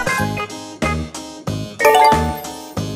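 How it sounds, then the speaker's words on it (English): Bright chiming tones ring out in a quick series of separate bell-like strikes, each fading briefly before the next, like a doorbell chime. "D for doorbell"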